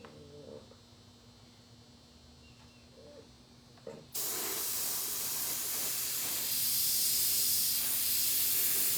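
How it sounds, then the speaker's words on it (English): An airbrush spraying clear coat onto a baseball helmet, a low room hum that gives way abruptly to a loud, steady, close hiss that carries on to the end. "When it's done, I got to clear coat it."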